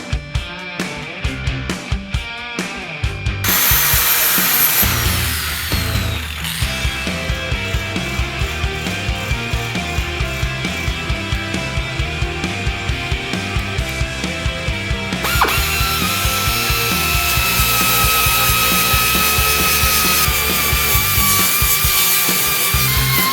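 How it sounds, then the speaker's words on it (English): A grinder fitted with 40 grit sanding the trunk roll lock of a Cuda under restoration, a loud continuous abrasive whine with steady rhythmic pulsing that shifts in pitch partway through, no talk. "I'm gonna take a grinder and we're gonna smooth it out as much as we can."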